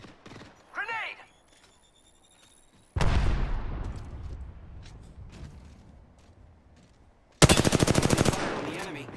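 Apex Legends firefight with a long rumbling volley of gunfire and an explosion-like boom, then a later very rapid close automatic burst, with brief voice-like sounds early on.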